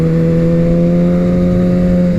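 Motorcycle engine held at high, steady revs, a loud continuous buzzing drone close by with only a slight rise in pitch, no voices.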